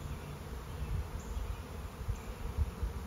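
Bees from a new swarm fly around behind a red hive, a continuous low buzzing drone with slight pulses in loudness, heard alone at moderate distance.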